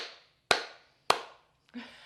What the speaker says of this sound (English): So if I clap, it turns off.